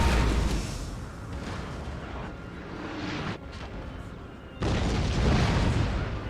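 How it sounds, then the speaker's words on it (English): Cannon fire in the battle game Napoleon Total War: heavy booming blasts with rumbling decay, one loud report at the start and another near the end, over a continuous low battlefield din. "I'm willing to let the cannons fire a little bit more."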